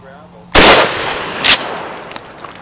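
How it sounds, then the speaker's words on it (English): A Remington 870 shotgun fires one loud, sharp blast at close range, followed by a short rolling echo and a fainter secondary crack, with quiet background before and after. "All right, 5 yards, Remington 870."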